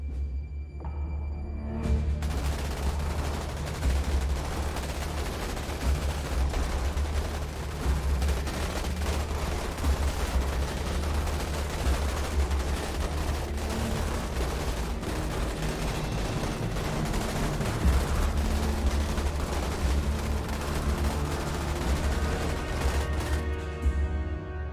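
Massed automatic gunfire and explosions in the Starship Troopers: Terran Command strategy game, an unbroken, dense battle roar that holds steady for the whole stretch with no pauses.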